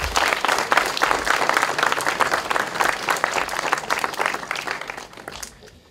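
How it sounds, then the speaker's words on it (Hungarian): Sustained audience applause at a school graduation ceremony, a dense steady patter of many hands clapping that fades toward the end, with faint crowd murmur underneath. "Tapsoljuk még egyszer."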